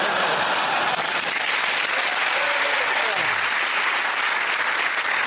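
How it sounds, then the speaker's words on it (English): A studio audience at a comedy panel show bursts into loud, sustained applause, with dense clapping filling the room the whole time and a little cheering mixed in. "Randomly, I say well done and people clap."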